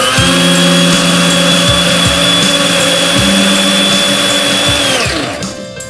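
A blender motor roars steadily while pureeing peppers into chili sauce, loud and close with a high whine and faint rhythmic knocking, then winds down and stops near the end.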